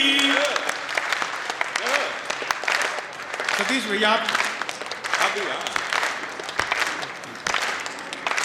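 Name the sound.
audience clapping along to a song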